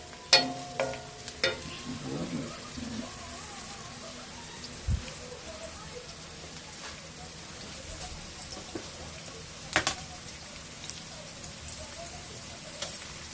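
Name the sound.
ginger garlic frying with onions and green chillies in pan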